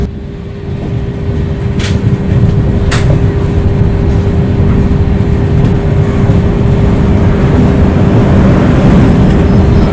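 A Puri–Shalimar superfast express in AC 3-tier class runs steadily near Kharagpur, giving a continuous loud rumble with a constant hum and a couple of brief sharp clicks.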